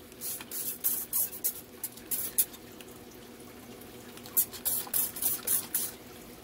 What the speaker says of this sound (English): this is not a lot of hydrogen peroxide I'm spraying